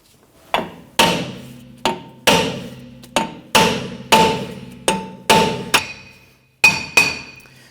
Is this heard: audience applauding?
no